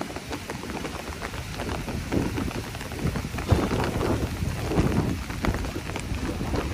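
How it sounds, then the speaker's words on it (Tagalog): A sudden heavy downpour pounds down near Manila Bay, a dense, continuous roar of rain with gusty wind buffeting the microphone, no talking. "lalo na pag ganyang kalakas ang biglang buhos ng ulan"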